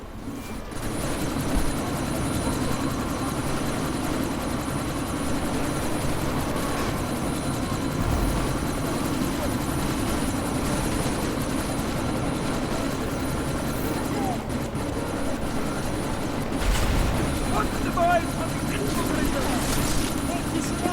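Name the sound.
helicopter (chopper) in the video game Deus Ex: Mankind Divided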